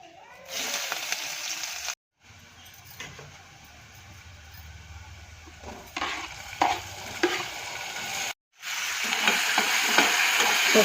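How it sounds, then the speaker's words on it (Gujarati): Onions roasting in a pan for a pea and potato curry, a crackling sizzle broken by stirring scrapes and a few sharper clatters, close up, with two brief silent gaps and no speech. "તો ચાલો પહેલાં ડુંગળી શેકી નાખીએ આપણે."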